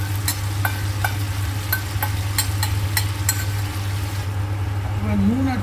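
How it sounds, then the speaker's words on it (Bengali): A paste of medium tomato, green chilies and ginger is sautéed in a pan, producing a continuous sizzle with regular tapping and stirring clicks over a low steady hum. "একটা গোটা টমেটো মিডিয়াম সাইজ, দুটো কাঁচা লঙ্কা আর 1 ইঞ্চি মতো আদা পেস্ট করা আছে। এটাকে ভালো করে কষিয়ে"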